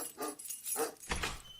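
Dog sounds in a dog food radio advert: a few short barks and yips in quick bursts, fairly close and clear, with no talking over them.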